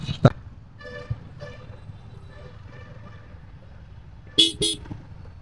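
Car horns blare in heavy traffic: one short honk at the start, then two quick loud toots near the end, over a low road rumble and occasional talking.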